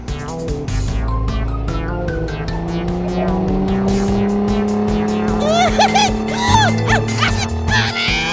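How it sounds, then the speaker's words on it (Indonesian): A car driven fast in an animated children's series, its engine drone steady and loud throughout with rising revs, squealing tones near the end, and voices talking over it. "Mobil ini ngebut banget deh, Iboy."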